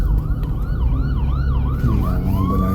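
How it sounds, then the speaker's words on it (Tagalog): An ambulance siren wails in a repeated rising-and-falling cycle, loud and close over steady road traffic rumble, with no talk. "Mga ambulansya ngayon ah."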